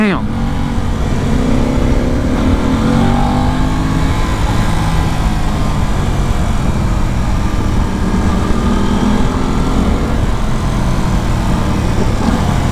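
An Aprilia RS 660 sport motorcycle accelerates hard along twisty canyon roads, a loud continuous engine roar with rising and falling revs amid heavy wind rush, and a rider's voice occasionally heard beneath it.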